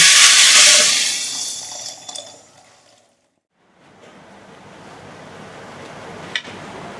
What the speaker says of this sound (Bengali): এবার পরিমাণ মতো আমি জল দেব